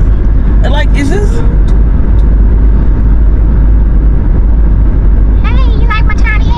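A car being driven, its engine and road rumble a steady loud drone throughout, with voices talking and exclaiming over it near the start and end.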